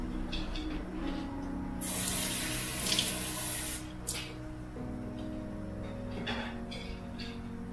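Tap water runs steadily into a measuring cup while soup is being made, a constant near hiss and splash with a louder surge in the middle as the flow strengthens, then easing back.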